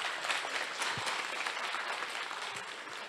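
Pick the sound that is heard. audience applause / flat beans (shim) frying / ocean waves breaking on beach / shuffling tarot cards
audience applause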